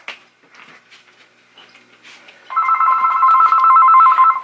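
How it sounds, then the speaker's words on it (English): A telephone rings in from a telemarketer, a steady electronic warbling tone beginning midway and sustained to the end, after some faint scattered handling and background sounds. "This is telephone phone call with the telemarketer."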